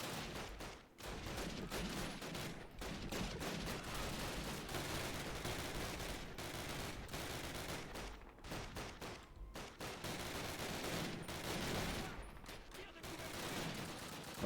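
Gunfire in the 2003 Call of Duty video game, dense rapid bursts of shots and impacts running almost continuously with brief pauses, loud and busy throughout.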